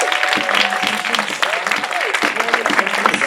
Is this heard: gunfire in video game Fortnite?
no